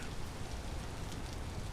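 Steady rain falling in a forest in the survival game Vintage Story, a dense continuous hiss of droplets with low rumble, even and unbroken throughout.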